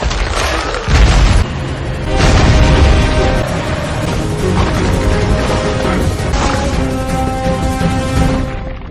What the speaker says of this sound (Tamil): அது டபார்னு வெடிச்சு சிதறிடுது.